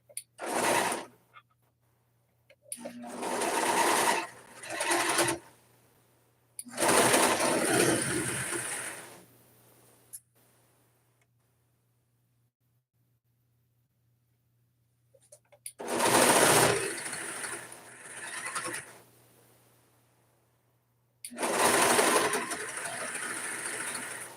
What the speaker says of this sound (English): As I'm serging, I am pushing the seams open on the front and the back